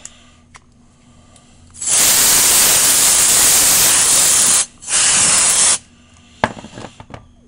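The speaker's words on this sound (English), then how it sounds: "I guess I should spray some of that stuff on the underneath here" An aerosol can hisses in two bursts onto the underside of a 1994 Toshiba TV's circuit board, a long spray of about three seconds followed by a shorter one, loud and close, with quiet before and after.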